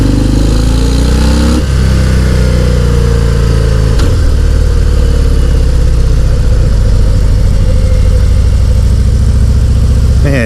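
A 2019 Harley-Davidson FXDR 114 motorcycle rumbling loudly and steadily while being ridden, a deep continuous engine drone with a couple of brief shifts in pitch, no talking.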